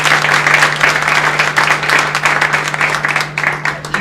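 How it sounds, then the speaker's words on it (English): A crowd applauds Detroit Red Wings fan club members at a hockey game-day event, with sustained, dense clapping filling the room at steady volume over a faint constant hum. "How about a nice round of applause for the Detroit Red Wing Forum Club members sitting back"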